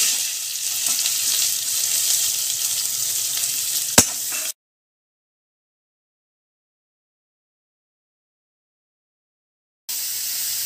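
Food roasting in a pan for soya sukka, a bright steady sizzle with a single sharp tap, then about five seconds of complete silence before the sizzling returns.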